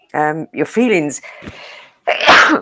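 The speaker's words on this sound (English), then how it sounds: "I'm going to sneeze" A person sneezes once, loud and close, after a man finishes a short spoken phrase and a breathy inhale during a sit-down interview.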